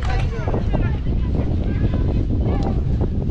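Strong wind gusting outdoors at a sports ground before a match, a steady broadband roar buffeting the microphone throughout, with voices faintly underneath.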